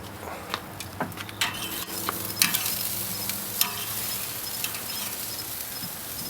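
Flipped ribeye steaks sear on a Grill Dome kamado with a soft, continuous sizzle, dotted with faint ticks and light scrapes from handling the meat.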